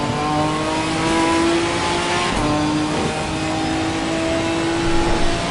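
Ginetta GT4 race car from Assetto Corsa Competizione in GT4 league practice, its engine droning loudly and continuously with sustained revs and slight pitch shifts as it moves through corners.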